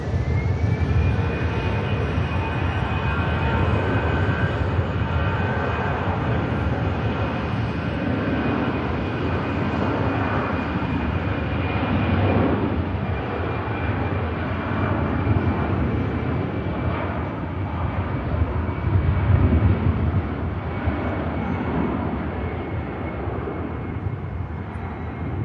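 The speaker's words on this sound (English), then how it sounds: "Finnair is lined up for departure" A Finnair airliner taking off at Manchester Airport produces a sustained jet roar with a thin, high engine whine riding on top. It swells slightly toward the end as it builds power, with no talking.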